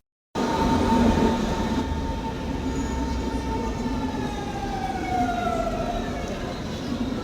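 A train arrives at the cavernous Berlin Hauptbahnhof on a minus-ten-degree day, a continuous loud rumble with a thin metallic squeal drifting across the station hall.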